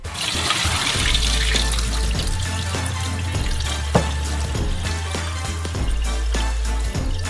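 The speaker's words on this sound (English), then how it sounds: "After 15 minutes, drain the starchy water." Starchy soaking water drains off cut potato bricks, a continuous close trickling and splashing stream that runs steadily throughout over a low hum.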